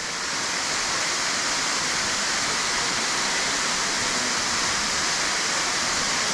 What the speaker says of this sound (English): Here's the falls behind me.